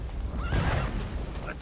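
Geralt's horse Roach in The Witcher 3 gives a brief whinny near the middle, its rising-and-falling wavering call set over a dense, busy game soundscape with low rumble and commotion.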